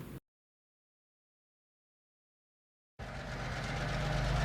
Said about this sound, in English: Oliver was woken by the sound of diesel engines.